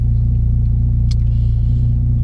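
A Peugeot 106 engine idling with a steady, throaty low rumble reminiscent of a Honda Civic, loud and close, with a faint brief clink over it.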